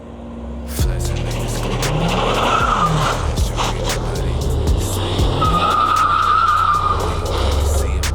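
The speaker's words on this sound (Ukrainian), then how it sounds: "Зараз буду пробувати давати боком." A BMW M5 G90 slides sideways in a drift, its tires squealing loudly and continuously over a steady engine drone, with rising whines as the car is pushed sideways.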